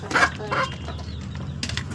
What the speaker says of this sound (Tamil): கோழி இங்கே இருக்குது பாருங்கள்.